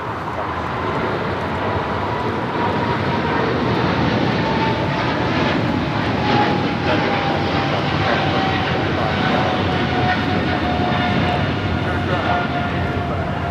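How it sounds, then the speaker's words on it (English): A Japan Airlines Boeing 777-300ER takes off from runway 25 right at Los Angeles airport, a loud, steady jet engine roar with a slowly falling whine, continuous throughout; a voice talks over it at points. "This is Japan Airlines Flight 15 taking off to Tokyo, Haneda on the 777-300ER."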